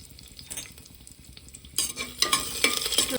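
Cumin, curry leaves and garlic sizzle in hot oil, starting as a quiet crackle and then flaring into a louder, bright hiss as more goes into the pan, with faint stirring.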